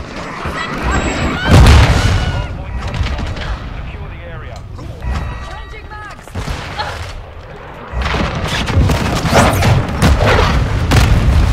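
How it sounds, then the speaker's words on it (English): A cruise missile strike in Call of Duty MWII lands as heavy booming blasts and crackling debris, loud and near, with rumbling follow-up explosions and gunfire while players talk over it. "Friendly cruise missile deployed."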